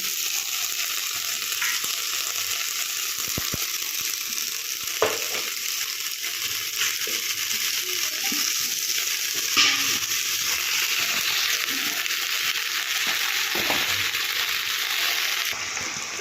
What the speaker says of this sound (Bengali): সবজিটা ভালো করে ভেজে নিলাম এরপর আমি লাউ শাকগুলো দিয়ে দেবো